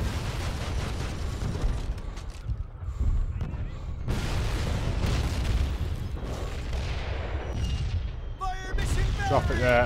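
Artillery strike in the multiplayer game Call of Duty: United Offensive: a continuous stretch of heavy, rumbling booms and blasts with mechanical clatter, loud and dense throughout, with a few brief electronic tones near the end.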